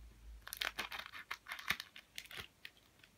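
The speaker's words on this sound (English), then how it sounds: "Easily opens there with the scissors." Trading card pack for Adrenalyn XL Euro 2016 France being cut open with scissors: a quick run of crisp, close snips and crinkling foil wrapper, several sharp bursts spread over a few seconds with no talk.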